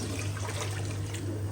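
Water poured into besan kadhi, gram flour already roasted with yogurt in a cooking pot, giving a steady liquid trickle and splash close by with a low hum underneath, no talking.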